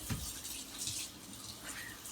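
Warm tap water runs steadily into a container in a home kitchen during baking prep, a continuous hiss and splash at moderate level with small fluctuations in flow, no voices.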